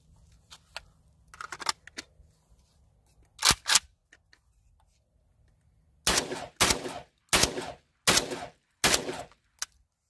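Garaysar Fear-103 semi-automatic shotgun firing at milk jugs outdoors: a few scattered early shots, then five loud, sharp blasts in quick succession, each followed by a brief echo.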